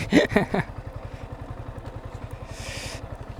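A second-hand Yamaha R15M motorcycle in like-new condition is being ridden. Its engine gives a steady, rhythmic pulsing thrum, with a voice speaking briefly at the start and a short hiss near the end.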